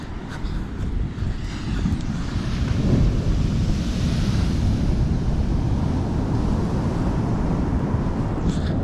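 Ocean surf and wind on an east-coast Australian beach: a steady, loud roar of breaking waves with heavy wind rumble buffeting the microphone throughout, no voices.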